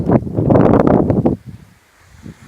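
A loud gust of cold wind buffets the microphone for over a second during an April fishing outing, then drops to a low, quiet rustle.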